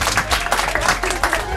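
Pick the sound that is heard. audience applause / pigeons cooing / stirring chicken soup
audience applause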